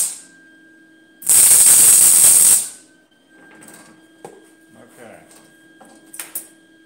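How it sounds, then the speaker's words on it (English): A short burst of tack welding on a metal art piece gives a loud, bright crackling hiss for about a second and a half, followed by quiet scrapes and faint metallic handling noises close by. "Just a little tack weld to hold it into place and see if I like it."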